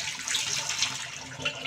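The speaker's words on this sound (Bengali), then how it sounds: "ছেঁকে নেওয়ার পর একটু ঠান্ডা জল দিয়ে চাউমিনটাকে ধুয়ে নেব" Cold tap water runs over drained boiled chowmein noodles in a strainer, giving a steady hissing splash that stays close and fairly soft with no voices.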